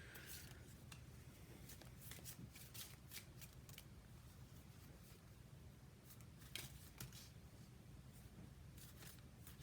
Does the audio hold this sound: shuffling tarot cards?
yes